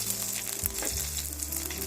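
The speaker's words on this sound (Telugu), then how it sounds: "ముందుగా మనం మిర్చి ఫ్రై చేసుకుందాం" Green chillies fry in oil in a kadai, a close, steady crackling sizzle with stirring underneath, brief and even.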